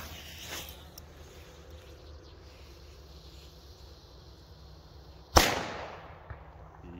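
A single loud firecracker bang, a Weco B-Böller, cracks sharply outdoors amid light wind, followed by a short fading echo, with a fainter pop earlier and a small pop afterward.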